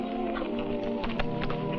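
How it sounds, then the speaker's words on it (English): Horses in a Western setting, heard as faint tapping hoofbeats beneath a steady, loud musical bed. "There's the horses I was telling you about"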